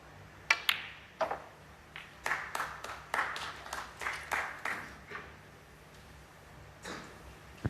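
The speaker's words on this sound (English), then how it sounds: "The mathematicians in the audience clapping." Snooker audience applause at a Players Championship quarter-final, arriving as a string of short, moderately loud bursts of clapping heard from a distance in a quiet arena, with brief pauses between the bursts.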